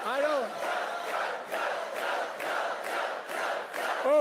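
A crowd at a political campaign rally roars and chants in steady waves, loud and sustained, with a lone voice cutting through at the start and end.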